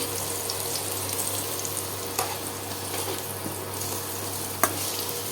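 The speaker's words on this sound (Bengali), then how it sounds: "ভালো করে জলে ধুয়ে আমি এটাকে তেলে ভেজে নিচ্ছি" Potato pieces frying in oil on an induction cooktop give a soft, steady sizzle with a low hum underneath and a couple of faint clinks.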